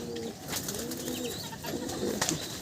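Madrasi pigeons from a flock coo in soft, repeated low calls, with faint chirps and the odd brief wing flutter close by.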